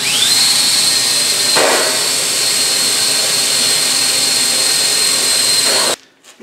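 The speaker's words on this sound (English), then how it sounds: "I'm going to drill a couple holes in here and put a couple sheet metal screws in there." A power drill bores holes into a welding cart tray made from garage door rails, one loud, continuous whine lasting about six seconds before it cuts off abruptly.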